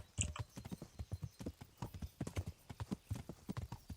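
Horse hooves clip-clop steadily and close in Kingdom Come: Deliverance, a quick uneven patter of hoofbeats filling the stretch with no talk over it.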